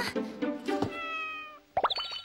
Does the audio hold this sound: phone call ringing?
no